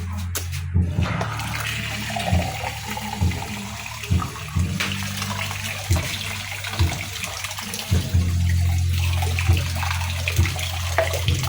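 Water runs steadily from a kitchen tap for several seconds during cooking, a continuous close splash broken by occasional knocks and clatters.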